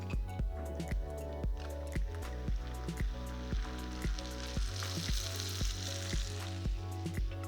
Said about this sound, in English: So now I want to add my white wine.